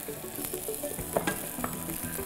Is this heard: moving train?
no